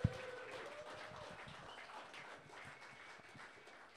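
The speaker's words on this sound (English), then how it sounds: "A round of applause for Keith D'Souza." An audience applauds at a live comedy debate show, with steady, fairly faint clapping that carries on throughout without voices.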